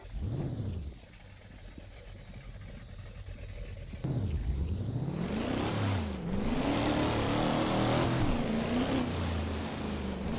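An older Ford Mustang engine in a racing video game drones, then revs hard through rising and falling pitch sweeps, growing louder and rougher toward the end, with no talking.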